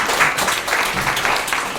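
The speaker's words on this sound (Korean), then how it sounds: "이때 로스를 위해서 박수 한 번만 쳐주시기 바랍니다." Audience applause at a short speech event, steady clapping throughout at moderate loudness with a voice faintly audible underneath.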